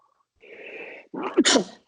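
A single person sneezes close to the microphone: a drawn-in breath followed by a sharp, loud burst, with no talking around it.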